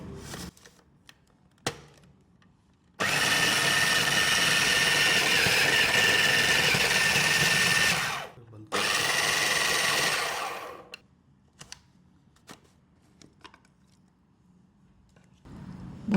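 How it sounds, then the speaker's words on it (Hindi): Tamarind barbecue chutney whirring in a kitchen blender, a steady loud motor drone running for about five seconds, a brief stop, then a second shorter burst that winds down, with quiet clicks before and after. "अब इसको मैं ब्लेंड कर लूँगी"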